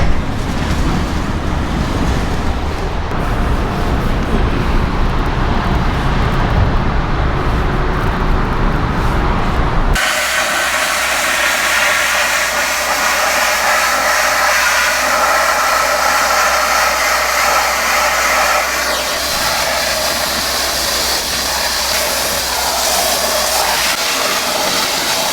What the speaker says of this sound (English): They are going to try to sandblast one wheel for me